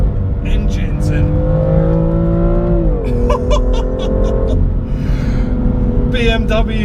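A 2017 BMW M2 pulls hard under steady acceleration, its engine note climbing and holding loud and close from inside the cabin, while someone talks over it.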